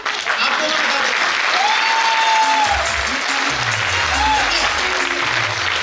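Audience applause fills the room in a steady, loud wash of clapping during a motivational retail talk, with voices talking over it in the middle and end.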